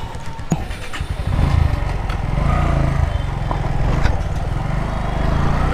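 A Bajaj Pulsar NS 125 motorcycle engine runs steadily with a low, throbbing drone that rises slightly after the first second. It is close and continuous, and a single sharp knock is heard early on.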